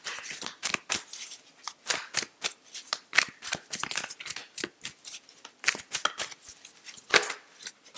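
Tarot cards shuffled and drawn in a quick, irregular run of crisp riffles and flicks across eight seconds, close and clear with no talking.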